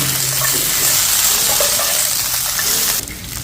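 Chicken frying in a pan with onions and ginger garlic paste gives a steady, loud sizzle with light stirring noises, ending abruptly near the close.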